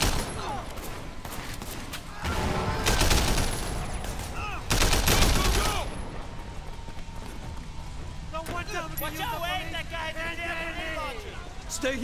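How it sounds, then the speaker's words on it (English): Gunfire and grenade blasts in the video game Sleeping Dogs, two heavy bursts of shooting and explosions mixed with running footsteps and game effects, with a voice talking at times. "There's somebody firing grenades at us."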